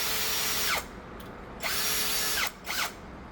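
Power drill boring through masonite: loud whining bursts of the motor under load, separated by short pauses and speed changes, close by with no speech.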